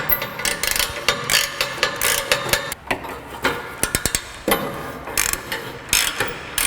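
A ratchet wrench loosens engine mount bolts on a 1982 Mustang donor car, clicking in quick repeated bursts with metallic clanks between strokes, close and loud with no talking.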